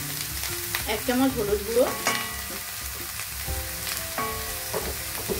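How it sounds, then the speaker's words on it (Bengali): Chopped bottle gourd for a vegetarian sanchi lau dish is stirred and fried in a pan, giving a steady close sizzle with scraping spoon strokes throughout, while a voice speaks briefly over the cooking as turmeric powder goes in. "লাউটা অ্যাড করে নাড়াচাড়া করবো ভালো করে এভাবে"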